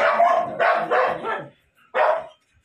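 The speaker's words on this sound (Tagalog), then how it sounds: "Sorry, medyo maingay mga aso." Several dogs bark outdoors beside a house gate, a burst of overlapping loud barks for about a second and a half, a short pause, then one more bark close by.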